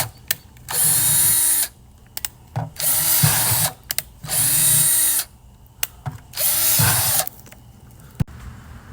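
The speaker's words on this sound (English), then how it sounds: "you're going to want to make sure that you drill a good amount of holes for drainage" A power drill whirs in four separate bursts of a couple of seconds each, drilling drainage holes in a plastic 5-gallon bucket, with clicks and plastic rattles between them, close up.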